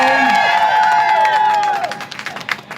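A crowd at a New York celebration of the 23 US women's national soccer team World Cup champions breaks into clapping and cheering that swells after a brief voice at the start, then continues as scattered claps and whoops.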